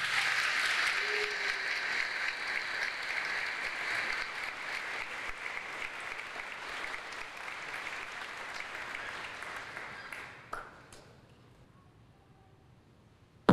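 Congregation applause during a church service, sustained and fairly even for about ten seconds, then fading out into near silence with a few last claps.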